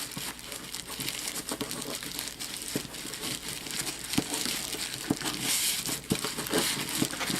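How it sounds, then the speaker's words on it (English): Crinkled fabric is folded by hand for tie dye: a close, continuous crackly rustling with many small crinkles and rubs that goes on steadily throughout, with no speech. "Then you're gonna take and you're gonna fold it, and you're gonna fold it just like this."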